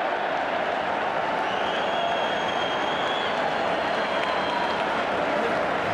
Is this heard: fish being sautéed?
no